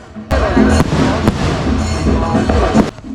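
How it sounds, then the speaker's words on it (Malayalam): Loud fireworks at a church feast festival in Manimala, Kerala, burst and crackle continuously, with sharp bangs standing out over a dense roar of popping. "പിന്നെ അതിൻ്റെ കൂടെ തന്നെ വെടിക്കെട്ടും അതുപോലെയൊക്കെ ഉണ്ടായിരുന്നു"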